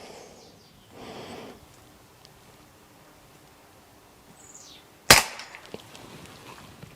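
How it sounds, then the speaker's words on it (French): A Stoeger XM1 air rifle fires once at a metal target about ten meters away, giving a single sharp crack with a quick ringing tail, set against quiet background and a few faint handling noises. "je tire dans le truc en métal derrière"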